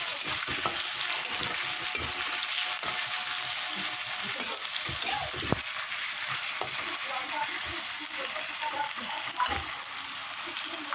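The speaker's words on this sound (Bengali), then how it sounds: "এখন টমেটোগুলো দিয়ে দিলাম একটু নেড়ে চেড়ে" Tomatoes frying in a pan while being stirred, producing a constant dense sizzle close by, with scattered small clicks and scrapes from the stirring.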